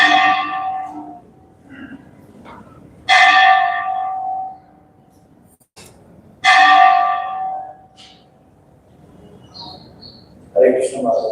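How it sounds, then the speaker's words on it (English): A bell rings out in a quiet devotional gathering, struck twice with bright resonant tones that decay slowly between long pauses, with faint small sounds in the gaps. "as soon as the bell stops ringing"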